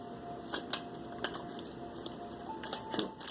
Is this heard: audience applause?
no